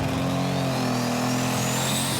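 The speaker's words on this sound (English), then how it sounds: "Maximum Risk, the second tractor from the Van der Waal stable" A pulling tractor revs hard at a Eurocup tractor pulling event in Brande, Denmark, a loud, steady, heavy engine roar that holds strong for the full two seconds with a rising whine above it.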